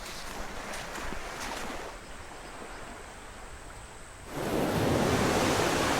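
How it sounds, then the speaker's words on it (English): A sailboat runs through a rough two-to-three-metre ocean swell in 20-25 knot wind gusting to 30: steady broadband wind roar and rushing water, then a louder surge of breaking waves near the end. "It's a pretty big swell, I'd say 2 to 3 metres. It's pretty windy, 20 to 25, gusting to 30 maybe."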